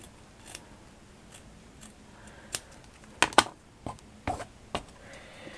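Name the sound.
scissors snipping a brooch pin back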